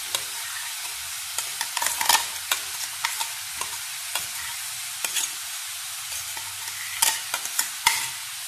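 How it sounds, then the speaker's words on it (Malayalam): Ground coconut paste being stirred into a papaya and cowpea stir-fry in a pan: repeated close spoon scrapes and clacks in uneven bursts over a continuous hiss of frying. "അരപ്പ് ചേർത്ത് നന്നായി ഇളക്കാം."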